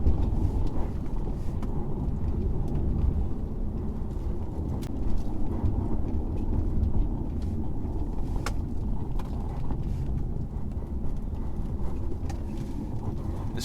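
A 2013 Audi Allroad Quattro driven hard along a winding road, its steady low engine and road rumble heard from the cabin, continuous and fairly loud with no talking.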